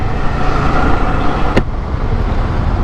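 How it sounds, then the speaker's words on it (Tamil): Heavy road traffic in Bangalore makes a steady, loud wash of engines and tyres close by, with one sharp burst halfway through. "செம்ம டிராஃபிக்ங்க."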